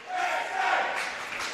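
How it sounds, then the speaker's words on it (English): Crowd at a women's over-30 cricket grand final, South Australia versus Victoria, giving a short burst of cheering and shouting, moderately loud and fading after about a second. "And an appreciative crowd."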